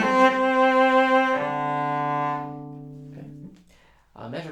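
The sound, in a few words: cello phrase from Popper study crescendoing to the up bows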